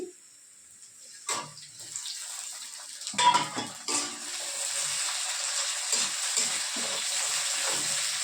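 Chopped tomatoes dropped into frying chicken skin curry: a few clattering knocks and stirs, then a steady, bright, hissing sizzle building and holding close by, with no talking.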